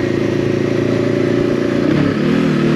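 The engine of a 2023 VOGE 525 ACX motorcycle drones close and loud while riding. It holds a steady tone, dips briefly and then picks up again.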